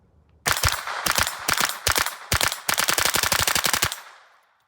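Rapid .22 LR gunfire from a rifle with a CMMG .22 conversion and a Franklin Armory binary trigger, loud close shots in fast bursts with brief pauses, ending in a long ringing decay.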